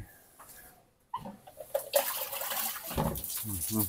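Water splashes and pours close by while a dog is bathed, coming in irregular bursts as a person speaks between them.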